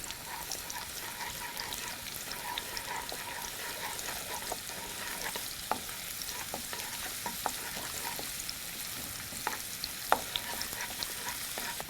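Small shallots fry with a steady crackling sizzle in a pan for a spicy potato masala, with a spoon scraping and stirring at irregular intervals, quiet and close.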